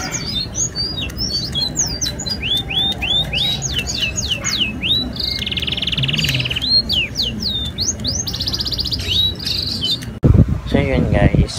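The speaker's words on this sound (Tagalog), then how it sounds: "Papakain ng mga ibon." Small pet birds chirp and tweet busily at close range during morning feeding, overlapping calls continuing throughout, with a brief voice near the end.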